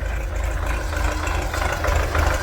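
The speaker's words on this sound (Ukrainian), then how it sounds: "щось він там робить, трактора завів" An MTZ tractor engine idles steadily nearby in winter, a low rumbling chug with a faint knocking rhythm, continuous and fairly loud with no talking.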